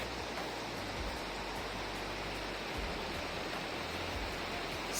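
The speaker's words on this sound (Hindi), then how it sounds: "So there is this lake जिसका पानी बहुत ऊपर से actually flow होके आ रहा है" Water tumbles from high above into a lake near a hotel in Pahalgam, Kashmir, giving a steady, even rushing roar with a faint low rumble underneath.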